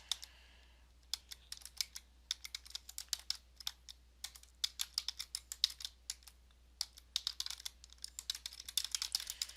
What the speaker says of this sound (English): press the space bar 1 more time, and then go ahead and finish typing